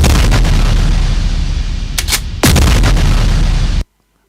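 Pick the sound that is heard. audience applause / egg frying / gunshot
gunshot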